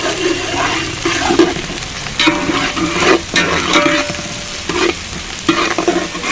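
Onions and green chillies sizzling and being stirred in hot oil in a pan for a Telangana-style fish curry, with scraping stirs and bursts of frying heard up close.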